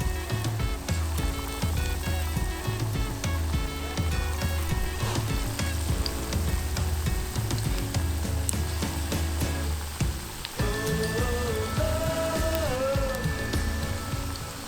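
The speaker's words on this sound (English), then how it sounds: "Now let's deep fry the prawns." Prawns deep fry in hot oil, a dense continuous sizzle and crackle close up with a faint clink or scrape partway through, no talking.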